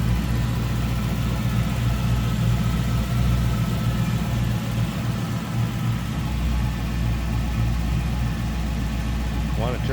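A custom 1959 Cadillac DeVille fitted with an LS1 V8 idles steadily close by, with a deep, even rumble that stays constant, and a voice talks over it.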